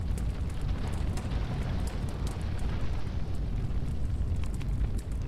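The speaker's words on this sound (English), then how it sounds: "Of course his house is on fire." A house burning in the video game Choo Choo Charles, a steady low roaring rumble of fire with faint crackles, continuous and fairly quiet, with no talking.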